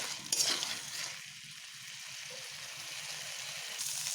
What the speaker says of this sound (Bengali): এইভাবে বেশ ভালোভাবে আমি মশলা ও আলুগুলোকে কষিয়ে নিচ্ছি